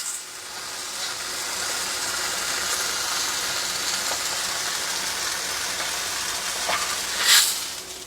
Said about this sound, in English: Just sear the sides a little bit.